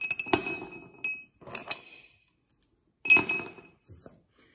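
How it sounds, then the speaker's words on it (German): Two ice cubes spooned into a drinking glass during a classroom science experiment give off several sharp glassy clinks in irregular bursts, close and fairly loud, separated by short silences. "dann gebe ich mit dem Löffel zwei Eiswürfel drüben in das Glas"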